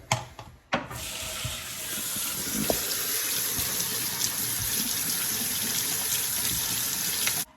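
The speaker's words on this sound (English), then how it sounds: "So now we're gonna rinse them because they're very salty" Salted chillies are rinsed under a kitchen tap, a strong steady stream of running water hissing and splashing into a sink for several seconds before stopping abruptly.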